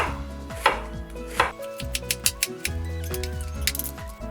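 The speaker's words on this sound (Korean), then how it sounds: "대박으로 양파를 먹기 좋게 썰어줍니다" A knife chops onion on a cutting board for a Korean fish cake stir-fry side dish: a quick, irregular run of close, crisp knocks and clicks with nothing else.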